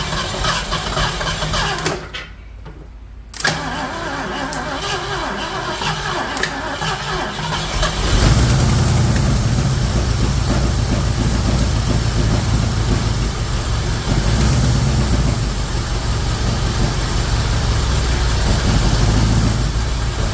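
A 1972 Ford Mustang that sat for years cranks and catches, its engine settling into a loud, steady rough idle that fills the scene, with someone talking over it.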